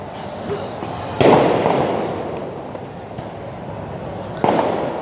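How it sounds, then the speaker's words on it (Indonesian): Tear gas canisters fired at a crowd outside the Mako Brimob Kwitang gate in central Jakarta at night: two sharp launching bangs a few seconds apart, over a steady rumble of a distant crowd. "sepertinya terlihat ada tembakan-tembakan untuk gas air mata ke arah ke depan sana"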